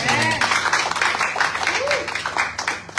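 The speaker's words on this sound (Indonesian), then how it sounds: "Berikan tepuk tangan untuk Tuhan." A church congregation claps during a sermon, with scattered, uneven applause under and between a preacher's loud voice and a sustained musical tone.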